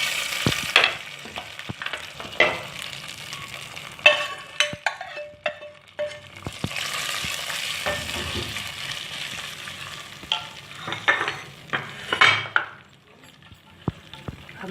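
Onion and round red chillies sputtering in hot oil for a tempering are poured into shola khichdi, giving loud crackling bursts and sharp clinks of the utensil, rising and falling over several seconds with no talk.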